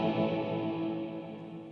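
An electric guitar plays through a Mooer Ocean Machine pedal set for huge reverb, giving a smeared, sustained wash of tone that slowly fades over a couple of seconds.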